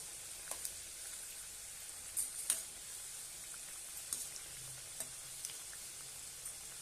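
Spinach mathri snacks deep-fry in oil with a faint, steady bubbling hiss broken by small scattered pops and crackles, and no one speaking.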